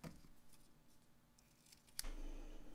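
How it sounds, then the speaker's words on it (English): Scissors snip through a short length of silver metallic-edge ribbon, giving one crisp cut near the end of an otherwise faint, quiet stretch. "I'm just gonna cut about a 6-inch piece here"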